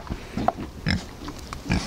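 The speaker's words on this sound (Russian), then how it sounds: "Свинки." Free-roaming pigs in a Siberian village grunt and oink close by, a handful of short snorting calls in quick, uneven succession with quiet gaps between them.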